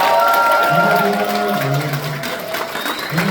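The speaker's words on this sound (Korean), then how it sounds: "큰 박수로 모시겠습니다." Audience at a Democratic Party basic-society committee event in a Daegu hall applauds to welcome a speaker, continuous crowd clapping and murmur with a sustained tone or music underneath, moderately loud throughout.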